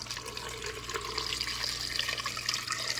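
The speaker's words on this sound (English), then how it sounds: "you just pour it gently over the eggs." Waterglass solution poured gently over fresh, unwashed eggs in a container, a steady splashing, trickling flow with small bubbling bursts throughout, close and moderately loud.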